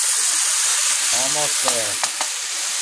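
Szechuan and sriracha wrap filling stir-fried in a hot pan, with loud, steady sizzling and hissing steam throughout, scraping stirring strokes, and a brief spoken remark over it.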